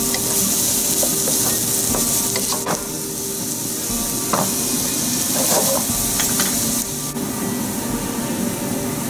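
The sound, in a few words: onions frying with salt in a pan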